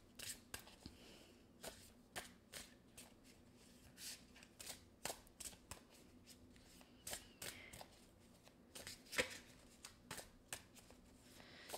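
Tarot cards are shuffled over and over in a quiet room, a string of crisp riffling bursts and soft slaps with short pauses between them, close and fairly faint, with no voices.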